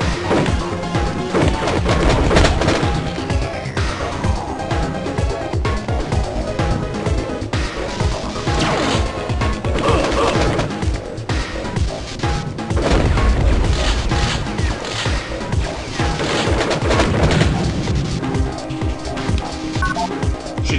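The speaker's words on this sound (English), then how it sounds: "gun is wicked powerful" Heavy gunfire from a powerful weapon in the action game Crusader: No Remorse, dense booming shots and crashes in a continuous loud barrage over game music with no talking.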